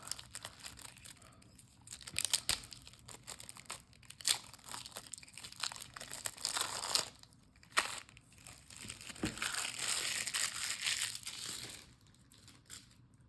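A cardboard card deck box opened by its tab, giving close, steady crinkling and scraping with a few sharper crackles and tearing bits, fairly loud and continuous, with no voices.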